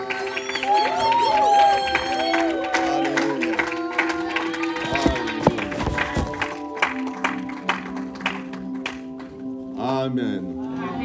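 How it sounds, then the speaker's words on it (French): A church congregation cheers and acclaims at a service, a broad sustained crowd roar mixed with instrumental music and tonal sounds, loud throughout the clip. "Sous nos acclamations, nous disons Amen."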